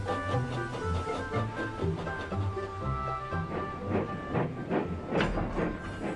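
Steam engine Emily hissing and chugging along, loud bursts of steam over a rhythmic rail clatter, close and continuous with no voices.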